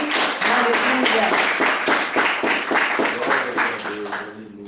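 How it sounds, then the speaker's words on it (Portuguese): A church congregation claps its hands hard and fast in worship, a dense, continuous patter of many hands with faint singing voices woven underneath, tapering off at the end. "Vamos adorar o Senhor com palmas bem fortes para Ele."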